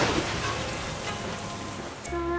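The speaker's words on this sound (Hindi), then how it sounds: "ऊपर बारिश हो रही है" Rain falls steadily overhead outdoors, a dense even hiss of drops that continues without a break. No voices are heard, and near the end a faint low tone rises beneath it.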